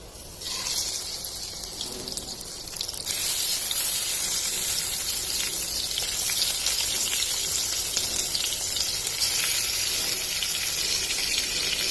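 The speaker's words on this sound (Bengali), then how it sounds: "মেখে রাখা মাছটা আমি দিয়ে দেবো এই তেলের মধ্যে" Marinated fish hits hot oil with lightly fried onions for a fish curry, setting off a loud, close, continuous sizzle that swells after a few seconds and holds steady, with no voices.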